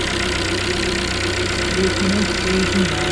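A Chevrolet Onix LTZ 1.4 engine idles with a steady mechanical hum and a faint, rhythmic knocking tick, heard up close while someone speaks over it.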